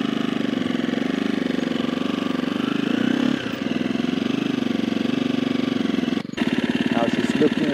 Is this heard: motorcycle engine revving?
yes